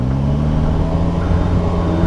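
A 2015 Polaris Slingshot SL three-wheeler's engine runs with a steady, close, throaty hum that holds an even level throughout.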